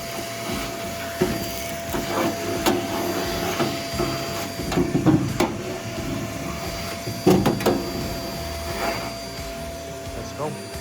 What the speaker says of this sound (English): We got the shop vac right here, a little ash vacuum.